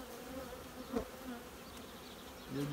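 Honey bees buzz steadily around an opened hive during a colony split, a constant low droning hum with a few louder passes of individual bees close by.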